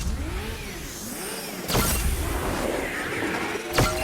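BMW cars race in a video game, with engines whining and rising in pitch, plus two sharp crash-like impacts, loud and up close.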